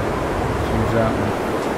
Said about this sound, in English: it just got too windy